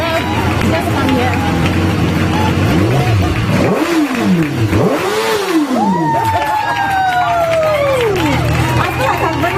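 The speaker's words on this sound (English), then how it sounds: "I've never started a motorbike before." A motorbike engine is started and revved on a lively set, rising and falling whines sweeping up and down over several seconds amid loud crowd chatter and nearby talking voices.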